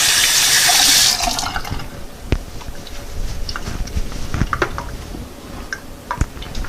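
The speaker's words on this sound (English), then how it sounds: "Okay, wash my hands." Tap water running loudly into a sink for about a second, then cut off, followed by quieter wet rubbing, drips and small handling clicks as hands are washed.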